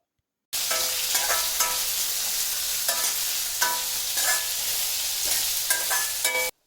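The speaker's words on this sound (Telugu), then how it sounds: "పచ్చిమిరపకాయలను కూడా వేసేసుకొని 4 వైపులా ఫుల్‌గా మిక్స్ చేసుకోవాలి" Onions and green chillies fry in hot oil for a chicken liver dish, a loud, close sizzle broken by repeated scraping stirs of a spatula against the pan, with no voices.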